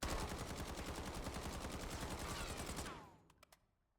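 CR-56 AMAX rifle fired full auto in a video game with no attachments, a loud, rapid unbroken burst of shots for about three seconds, then the echo tails off with a few clicks.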